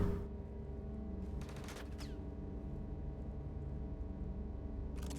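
Gunfire in the sci-fi shooter Star Citizen, with short bursts of shots cutting through a steady mechanical background hum, a cluster in the first half and another at the end.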